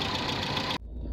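A loud engine cooling fan on a Dacia car roars steadily up close with a dense whooshing whir, then cuts off abruptly, leaving a low rumble.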